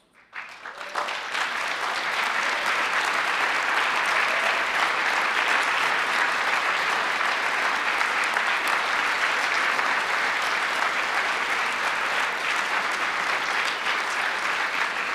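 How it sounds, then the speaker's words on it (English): Sustained applause from a large conference audience at a public health summit, rising quickly from near silence into a steady, dense roar of clapping that holds evenly throughout, with no voices on top. "they all deserve a round of applause"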